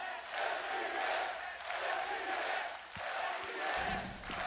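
A large crowd roars and cheers in an esports arena during a VCT Masters Copenhagen 2022 Valorant lower final between FPX and OpTic, a steady dense swell of massed voices heard at a distance and rising and falling in waves.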